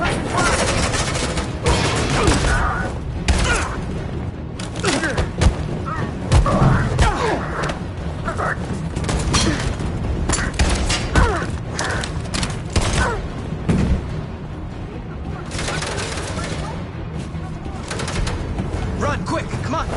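A chaotic video game firefight with dense, continuous gunfire, bursts of automatic fire, booms and thuds crowding the scene loudly, with shouted voices mixed in.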